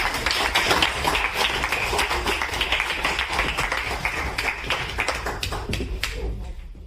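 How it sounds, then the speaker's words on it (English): An audience at a Stand Ups 4 Assange event applauds Roger Waters, giving steady, dense clapping from a crowd for several seconds before it begins to thin out at the end. "Roger Waters, give a round of applause"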